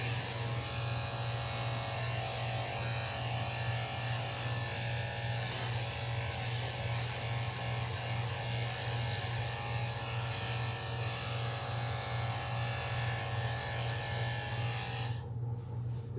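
Electric clippers buzz continuously while shaving an elderly Mini Schnauzer, a steady close hum with faint rasping against the fur that cuts out near the end; no talk.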